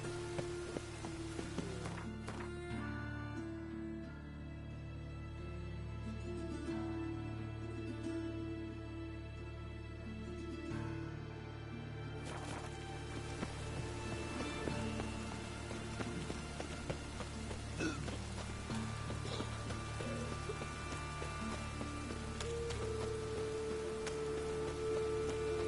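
Rain in the video game The Witcher 3, a steady patter of drops on surfaces over a low ambient rumble and faint game music, with occasional hoof clip-clops.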